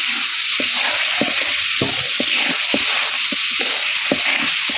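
Duck meat with turmeric and chili powder sautés in oil in a pan, giving a constant loud sizzle, while a spatula scrapes and stirs in regular close strokes about twice a second.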